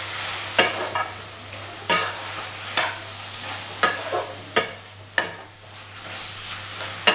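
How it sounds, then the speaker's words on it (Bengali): Poppy seed paste cooked with pea greens is stirred in a pan to dry it out, giving a series of distinct spatula scrapes at irregular intervals over a low, steady sizzle, with no talking. "এবার আমি কন্টিনিউ এইভাবে নেড়ে নেড়ে জিনিসটাকে শুকনো করে নেব।"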